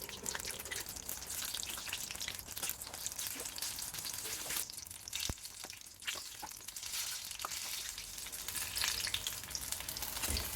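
Vegetable spring rolls fry in hot oil with a steady, dense sizzle and crackle that runs throughout, with occasional sharper pops and spits rising above it.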